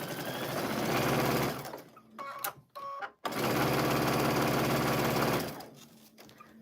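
A sewing machine stitches a quarter-inch seam on a Christmas kaleidoscope quilted table runner in two long, even runs of rapid whirring. Between them is a short pause with clicks of the fabric being adjusted, and the machine winds down at the end.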